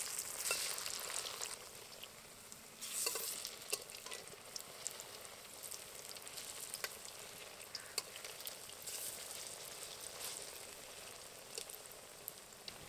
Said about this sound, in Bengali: এবার উল্টে দিয়ে অন্য দিকটাও ভেজে নেব।